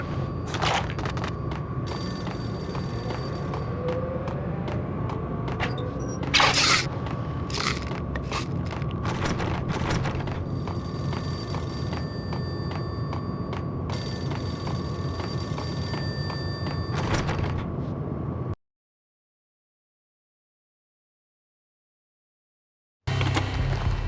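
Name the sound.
payphone ringing in the video game Max Payne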